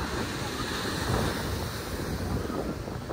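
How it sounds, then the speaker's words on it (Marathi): Strong ocean waves crash and surge steadily at a South Goa beach. The surf roars loud and continuous, mixed with gusty wind buffeting the microphone. "बघा लाटा किती जोरात जोरात यायला लागलाय."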